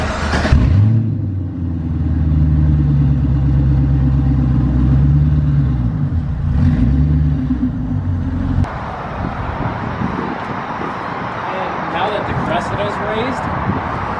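A Chevrolet Corvette engine idles with a steady deep rumble, close and loud, for about nine seconds. It then cuts off, leaving only noisy background sound.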